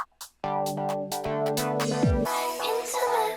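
A short UK house intro: filtered synth chords and drums sweep in over two bars, a descending pitch sweep leads into a fuller, brighter mix with steady beats, loud and continuous with no voices.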